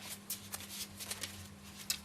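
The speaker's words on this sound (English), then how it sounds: "You keep those cards, just the cards that you've discarded so far, and shuffle those back into your hand" Playing cards from a Malifaux tabletop game are shuffled close by in a steady run of soft riffling flicks over a low constant hum, with no voices.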